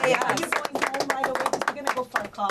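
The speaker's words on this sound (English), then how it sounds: "Round of applause for us." A small audience at a live talk show claps briefly, uneven bursts of hand claps mixed with cheering and overlapping voices, fairly close and choppy rather than a full sustained ovation.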